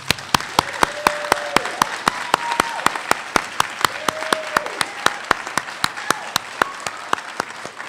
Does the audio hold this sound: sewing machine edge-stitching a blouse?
no